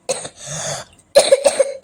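A person with a cold and sore throat coughs a few times up close, in short harsh bursts with a rough, throaty tone.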